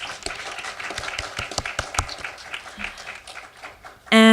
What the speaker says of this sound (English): Let's have one last round of applause for our panelists